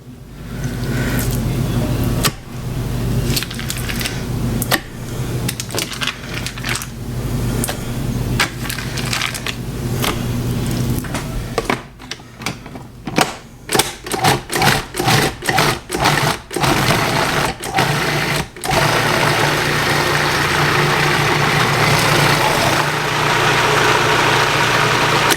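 Food processor whirring steadily as it blends cream cheese for a crab rangoon dip, then a run of short stop-start pulses before settling back into a continuous blend.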